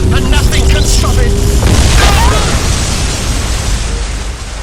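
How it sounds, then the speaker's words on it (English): A booming explosion effect from an audio drama, a loud burst with a rumbling, crackling tail that fades over a few seconds, mixed with dramatic scoring. "The explosion is coming now, and nothing can stop it."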